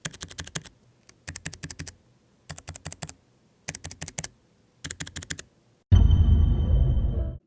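Bursts of rapid typing on a Keychron K3 v2 wireless low-profile optical keyboard with hot-swap switches, five crisp clattering runs separated by short pauses, close and alone, then a final loud broadband burst of different sound.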